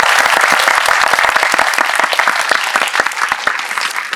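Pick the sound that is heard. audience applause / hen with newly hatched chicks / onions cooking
audience applause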